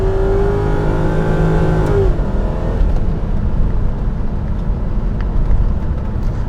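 A 2002 Ford Thunderbird's 3.9-liter V8 revs loud and close, with a rising whine that falls away into a rough, steady engine roar.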